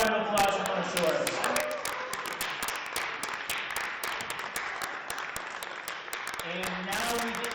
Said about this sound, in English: One more round of applause for Mona Shores.